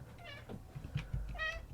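Cat meowing outside a window beyond a screen, two distinct drawn-out meows with a soft chirp between them, quiet and somewhat distant over faint room noise.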